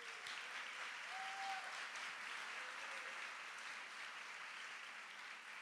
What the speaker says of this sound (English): Can we have one large applause for all of our recipients as we are at the end?